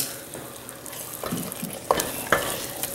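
Chicken and spinach pasta sauce simmering in a pan while being stirred, a soft steady bubbling with occasional louder scrapes and knocks of the utensil against the pan, close and without talk.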